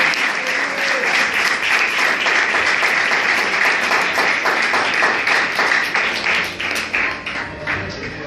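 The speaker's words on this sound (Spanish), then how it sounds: "Dale palmas al Señor." A church congregation claps loudly and steadily, praising God, many hands together with a faintly rhythmic patter, voices mixed in beneath, tapering slightly toward the end.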